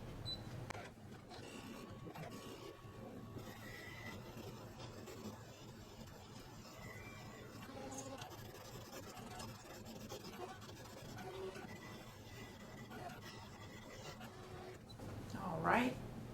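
A fabric cutting machine slices appliqué pieces for a quilt on a cutting mat, giving a continuous low mechanical whirring and scratching with small clicks, under intermittent talking.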